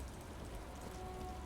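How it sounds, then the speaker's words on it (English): Steady rain falling on a surface in the video game Disco Elysium, a continuous soft hiss with no breaks, moderately loud and alone. "It's rainy. It's a rainy day."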